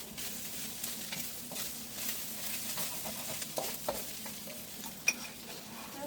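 Meat frying in oil in a pan for pancit, a steady close sizzle with occasional stirring scrapes and one sharp clink near the end, no talking.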